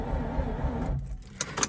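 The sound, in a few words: 2004 Mazda RX8 starting attempt with keys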